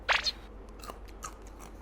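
A crunchy spicy 7-Eleven snack noodle is bitten once with a loud crisp crunch, followed by a few quieter chewing crackles close to the mouth.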